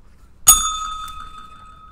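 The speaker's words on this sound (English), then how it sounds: "The bell." A single bright bell strike rings out sharply, then a clear sustained tone decays slowly over a quiet background, struck once during a live ticket-opening session.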